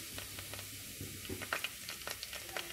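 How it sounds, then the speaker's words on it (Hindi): Cumin seeds and round red chilies sizzle in a quarter cup of hot oil for a moong dal tadka, a steady close crackle with small popping spatters throughout and no talk. "1/4 कप ऑयल लिया है हमने, ज़ीरा डाल देंगे इसमें, और ये जो गोल लाल मिर्चें ली थी हमने ये डाल लेंगे"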